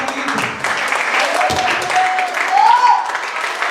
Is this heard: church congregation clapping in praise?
yes